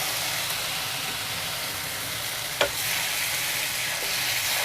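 Ground tomato puree and masala fry in hot oil in a pan, a constant close hissing sizzle with a sharp stirring knock partway through and no talking.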